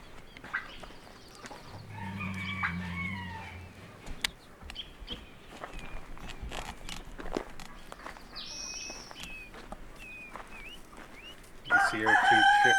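A mother hen clucks among her two chicks in a farmyard, with soft clucks, footsteps and a nearby rooster crowing, plus high chick peeps toward the end.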